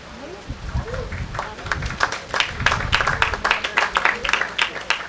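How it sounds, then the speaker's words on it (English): Scattered applause from spectators greeting playoff matches on the 18th hole at a rainy FootGolf world championship in Acapulco, a soft patter of claps building and continuing under steady outdoor ambience. "The applause you're hearing are for some of the playoff matches that are coming through on hole 18."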